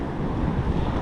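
Wind buffeting the microphone over steady surf at the Avoca rock fishing spot, a dense, continuous low rumble with no voices.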